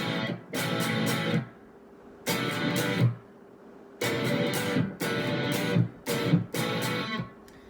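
Bursts of strummed electric guitar chords repeat in a short riff, loud strokes separated by brief gaps, played alone without any voice.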